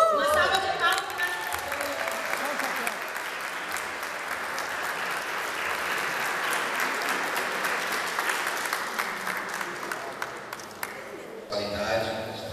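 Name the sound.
church congregation applauding for the pastor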